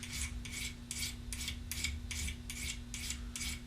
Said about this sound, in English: I can use the same file again